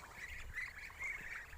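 Ducks quacking at a farmyard where birds are being traded for chickens, a few quiet nasal calls over a faint background hum.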